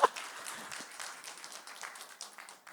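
A church congregation at a Sunday afternoon service breaks into brief, moderate clapping that starts with a sharp clap and continues as a light, fairly distant patter for a couple of seconds.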